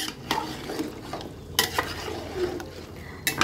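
Garlic tempering sizzles and spatters as it hits a pan of simmering curry, with a steady frying hiss punctuated by sharp bursts of crackle and a few stirring scrapes, close and fairly loud.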